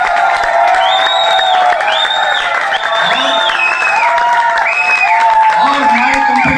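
Loud crowd applause mixed with cheering and whoops at a speech event honoring company leadership, with overlapping voices and shouts throughout.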